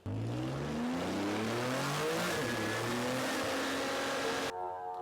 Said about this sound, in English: It sounds like the car has got some big block V8 in it.